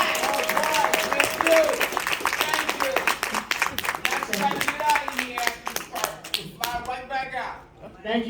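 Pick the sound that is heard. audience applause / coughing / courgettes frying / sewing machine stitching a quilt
audience applause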